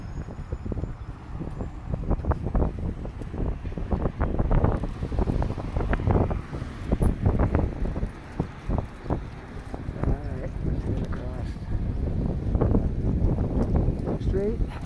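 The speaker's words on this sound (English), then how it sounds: "the wind is making it a little bit chilly" Steady outdoor winter wind in downtown Halifax buffeting the microphone, a loud continuous low rumble with gusts, under footsteps and street noise.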